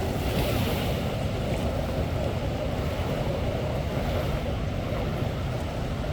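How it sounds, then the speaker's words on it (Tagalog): Continuous roar of big ocean waves, a dense broadband rush with constant wind buffeting, no pauses or voices. "Ang lalaki talaga ng alon"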